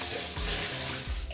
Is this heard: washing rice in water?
yes